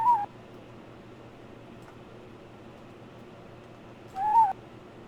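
Two short, tonal bird call notes in the puzzle video game The Witness, one at the start and one near the end, separated by a long quiet stretch over a faint low hum.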